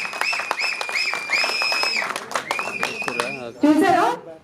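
An audience at the pre-release event for the film One Last Ride claps steadily for several seconds under a speaker's voice, with a burst of cheering toward the end.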